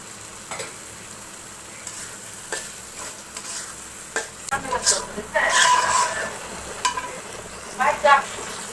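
Chopped jackfruit seeds go into a pan and are stirred as they fry, making spatula scrapes and knocks over a low sizzle. The stirring grows busier toward the end, and a voice speaks in short bursts.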